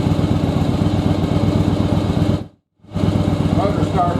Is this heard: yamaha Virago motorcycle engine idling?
yes